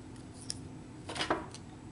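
Scissors snipping paper for a domino pendant, a couple of quiet, brief crisp cuts close by in an otherwise still room.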